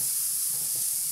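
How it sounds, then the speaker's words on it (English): Carrots sizzle on a hot grill with a steady, bright hiss, close and continuous over a brief moment. "Nice sizzle."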